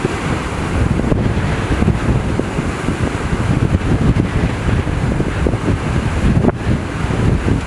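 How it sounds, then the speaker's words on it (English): Ocean waves crash and surge at South Point, the southern tip of the Big Island, Hawaii, in a loud, continuous roar with strong wind buffeting the microphone and no voices. "And the waves are a-crashing."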